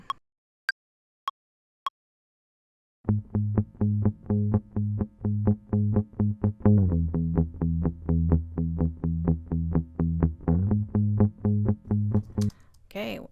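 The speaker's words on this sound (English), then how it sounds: "Now let's add a bass guitar in." A bass guitar clip plays in Ableton Live as a run of evenly repeated, punchy low notes with a buzzy, distorted edge, preceded by a few sharp clicks and near-silence before the notes begin.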